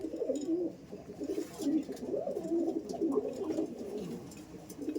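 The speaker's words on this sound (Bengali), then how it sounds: "মানে দুর্দান্ত মেল পায়রা আছে আন্ধ্রা পায়রা" Andhra pigeons coo in close, repeated low, throaty rolls, several birds overlapping in a continuous soft burbling with faint higher chirps above.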